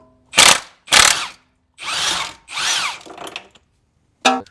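Power tool zipping bolts out of the motor mount bracket on a B8 Audi A5 2.0T, in two short close bursts, then two longer runs and a final brief burst, with silent gaps between.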